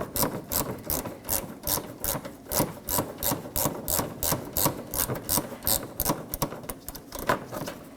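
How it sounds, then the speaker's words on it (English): Plastic trim tool scrapes and rubs against a Nissan Maxima fender liner in a rapid, regular series of short rasping strokes, close and moderately loud with no voices. "Now I'm going to take a plastic trim tool to pry the fender liner up and out so I can gain access to my 10mm bolts."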